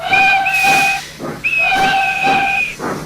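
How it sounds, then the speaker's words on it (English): Steam locomotive Edward sounds two long, loud whistle blasts, each bright steady tone held about a second, with hissing steam between and around them. "And he blew his whistle"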